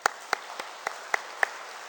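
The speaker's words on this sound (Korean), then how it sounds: "우리 하나님께 영광 박수 올리겠습니다" Sparse, sharp claps ring out in a church at roughly even intervals, about six distinct hits over a couple of seconds, fairly faint against a quiet hall.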